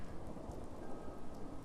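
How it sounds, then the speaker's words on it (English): Steady dense rain pours in Fallout 4 as a storm with thunder rolls in, making a continuous hiss with a low rumbling underlayer at a moderate, even level. "raining, thunder, skies growing over"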